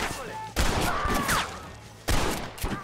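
Two bursts of rapid gunfire in the video game Red Dead Redemption, loud and close, separated by a short pause, with faint whooshing effects between them.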